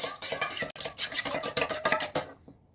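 Three eggs are beaten briskly in a bowl, a steady rapid clinking and swishing of a utensil against the dish at close range that stops abruptly near the end, with no voices.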